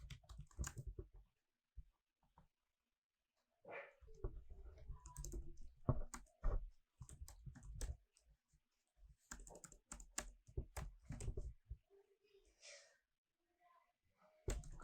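Computer keyboard typing text into a document in MS Word, quiet clustered bursts of rapid key clicks separated by short pauses.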